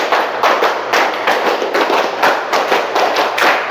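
A group claps out a counting pattern in a classroom clapping game, producing even bursts of crisp, close claps that repeat at a steady pace with no voices over them.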